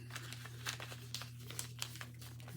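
A sheet of paper is creased and folded by hand, giving a run of crisp crinkles and crackles at close range over a steady low electrical hum.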